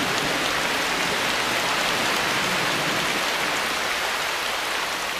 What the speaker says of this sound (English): In the dry season, the rains are less frequent and usually arrive in the afternoon.